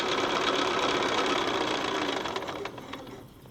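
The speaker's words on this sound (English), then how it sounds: "And then I'm going to sew a 1/4 inch from that side" A sewing machine runs steadily, stitching a quilt's half square triangle a quarter inch from a marked line, its motor whirring continuously up close before slowing and fading over the last second.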